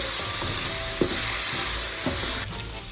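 Spices roasting in a pan with soy sauce, a steady sizzle and frying hiss running throughout, with a couple of soft stirring scrapes and a slight drop in level near the end.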